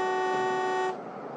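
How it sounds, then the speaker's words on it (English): A car horn blares in one steady, bright, sustained honk that cuts off abruptly, leaving low background noise behind it. "Just keep blowing that thing. Here, you watch, let me honk."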